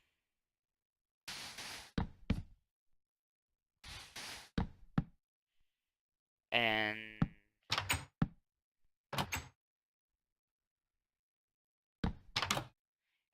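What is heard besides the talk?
placing doors in video game Minecraft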